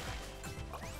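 Watermelon smashed open in a retro-style action video game, a single short wet crunching crash close and loud, no talking.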